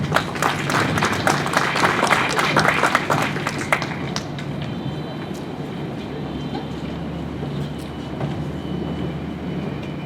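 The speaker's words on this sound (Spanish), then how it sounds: "Solicito unas fuertes palmas para él," Applause from an audience at a talk on tutoring and its transformative mission, a dense wash of clapping loudest over the first few seconds, then thinning to a softer, steadier patter.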